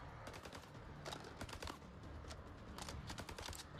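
Gunfire in the video game House of Ashes: rapid bursts of automatic shots, quiet and distant, in clusters with short gaps between them.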